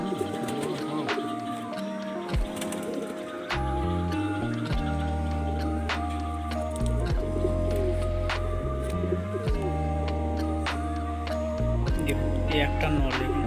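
White pigeons at a pigeon market in Bauria coo in low, rhythmic, repeated calls close by, with small ticking and rustling sounds among the birds.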